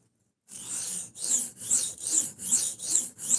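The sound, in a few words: sharpening a knife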